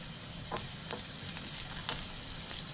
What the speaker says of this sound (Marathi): तेल तापत ठेवलं आणि त्यात ही जी डाळ आहे हिला आपण खरपूस भाजून घ्यायची आहे.